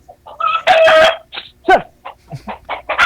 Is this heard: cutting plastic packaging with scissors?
no